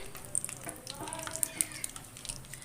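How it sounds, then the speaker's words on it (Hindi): Bay leaves, green cardamom, cloves and cinnamon sticks sautéing in oil for egg korma, a soft close sizzle with small sharp crackles and spits, brief and fairly quiet. "इसे मैं सौते कर लूँगी।"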